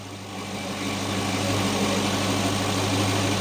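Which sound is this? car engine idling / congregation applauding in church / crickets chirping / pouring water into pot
car engine idling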